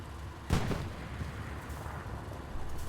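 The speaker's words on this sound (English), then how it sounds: "so Panzer IV is just firing on WM4 here still" A Panzer IV tank fires its main gun in a World War II tank battle game on the Utah map: one sharp, heavy boom early on, followed by a steady rumbling battlefield ambience.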